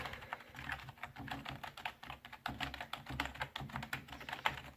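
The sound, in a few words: typing on a wired computer keyboard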